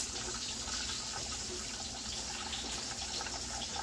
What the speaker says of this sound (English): We just pour the water on top and let it drip for her.